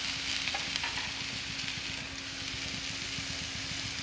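Navratna pulao with paneer and fried vegetables stirred in a pan, a continuous soft sizzle and scraping under a steady low hum, fairly quiet, no voices.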